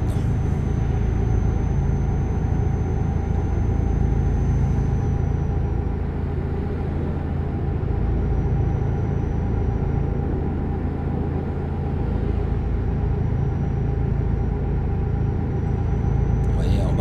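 A truck driving in Euro Truck Simulator 2, a steady loud low engine rumble with continuous road drone held throughout, with no talk over it.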